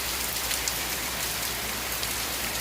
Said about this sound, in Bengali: শুধু বৃষ্টি হচ্ছে।